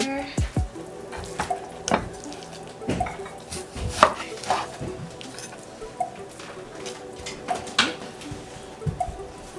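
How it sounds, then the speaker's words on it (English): A knife slices meat thinly on a cutting board for Thai boat noodles, a steady run of close, crisp chops and taps with occasional clatter of kitchenware; no talking. "we're just gonna keep slicing the meat"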